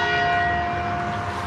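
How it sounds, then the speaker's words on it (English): A church bell rings out steadily in a sustained, resonant tone, its bright overtones hanging in the air throughout, with no one speaking. "as you hear the wonderful church bell"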